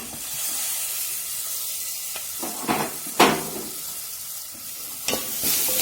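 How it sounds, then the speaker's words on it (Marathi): Curry leaves and spices frying in hot oil for a home-style dal, a steady close sizzle with a few sharp crackles and a brief stir or pan knock, no talk. "चांगला तडतडू द्यायचा कढीपत्ता पण आणि एवढं सगळे मसाले परतले की शेवटी आपण जे टोमॅटो कापलेला छोटासा तो टाकून द्यायचा"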